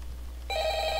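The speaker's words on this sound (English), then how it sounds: "Why is someone ringing me?" A telephone in an office starts ringing partway through a Super Mario 64 machinima set in a five-nights-at-the-castle scene: a sudden, steady electronic ring over a low hum, loud and close.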